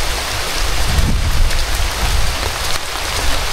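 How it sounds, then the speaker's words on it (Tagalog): Heavy rain pours down in a dense, loud, continuous roar, with faint low rumbles of thunder underneath and no voices. "Ayun, malakas na ang ulan."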